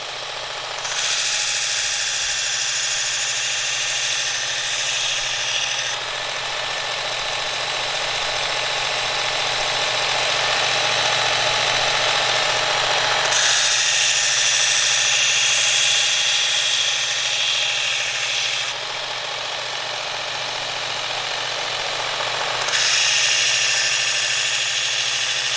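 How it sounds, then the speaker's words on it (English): Work Sharp Ken Onion Elite MK.2 knife sharpener running its coarse belt, a steady motor whine with a gritty abrasive hiss that grows rougher in several long passes as a blade is ground, close and loud with no talking. "This is the coarse belt that I'm running here"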